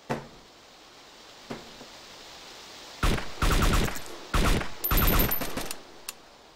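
Gunfire in a shooter video game: a few isolated single shots, then two dense bursts of rapid automatic fire close up and loud, followed by one more lone shot.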